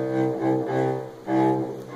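A cello bowed in an uneven rhythm of sustained, rich notes with short breaks between strokes, played close and clear in a beginner lesson.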